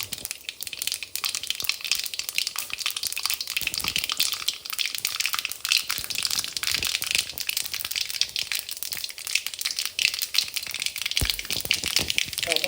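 Mustard seeds crackle and pop steadily in hot oil while tempering a snake gourd vegetable dish, a dense, continuous sizzling spatter that stays loud and close throughout with no talking.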